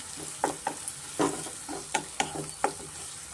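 Capsicum fries in hot oil in a pan under a soft sizzle, punctuated by sharp close clacks of a spatula stirring at irregular intervals, with no talking.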